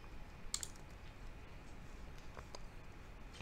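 Code being typed on a computer keyboard, faint close clicking keystrokes in short irregular bursts over a quiet room hiss.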